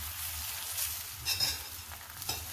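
A methi aloo paratha cooks in desi ghee on a hot pan just after being flipped. It gives a soft, steady sizzle with a few brief brighter crackles and no voices.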